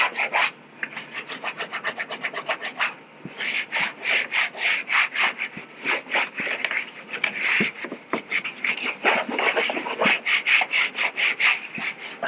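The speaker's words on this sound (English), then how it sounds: "we always want to use microfiber because that's going to give us a little more scrubbing action" A microfiber towel scrubs a car door panel during cleaning, making a rapid series of close, rhythmic rubbing strokes, a raspy back-and-forth swish that keeps going without pause and with no talk over it.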